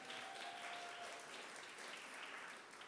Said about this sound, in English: And so a round of applause for Kitty, who's very much needed.